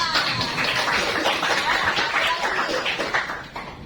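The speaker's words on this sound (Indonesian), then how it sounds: "Tepuk tangan dulu buat kalian." Group of students clapping together in a classroom, a steady dense patter of many hands at moderate level filling the moment, fading slightly toward the end, with faint chuckles mixed in.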